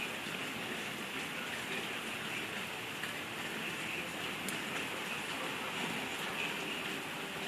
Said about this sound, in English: That means it's starting to start raining.